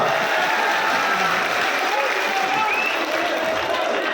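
A crowd at an election rally in Jasrota, Kathua applauds loudly and continuously, a thick, steady wall of clapping with crowd noise throughout.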